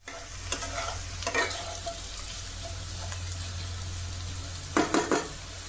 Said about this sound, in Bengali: ওদিকে কড়ায় আলু ভাজাও চাপিয়ে দিয়েছি।